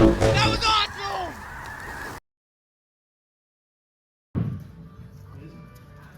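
Snow geese honk over Louisiana fields during a hunt, a burst of layered nasal calls close by that fades and then cuts out, followed by a brief return of fainter flock noise.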